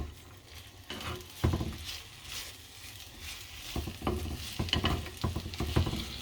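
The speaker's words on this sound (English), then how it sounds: "while the onions are getting fried" Onions frying in a pot for a chicken masala, a soft, close sizzle broken by scraping stirs and clattering handling of the pot in uneven bursts, with no voices.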